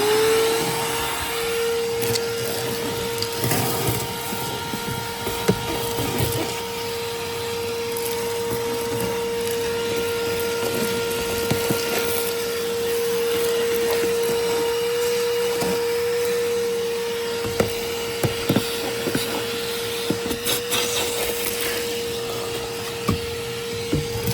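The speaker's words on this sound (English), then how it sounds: "Now let's vacuum out this." A vacuum cleaner drones steadily and loudly inside a classic Ford truck's cab, with a constant whine and occasional clicks and bumps from the nozzle.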